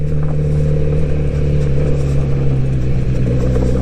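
A 2022 Kawasaki Z900RS four-cylinder motorcycle engine climbs uphill in second gear, a smooth, steady mid-pitched drone that stays loud and unbroken.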